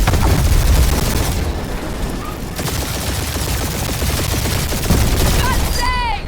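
Turret gunfire from a space battle in the Guardians of the Galaxy video game: dense, continuous rapid shots and booming impacts filling the whole stretch at high loudness, with bright whooshing effects near the end.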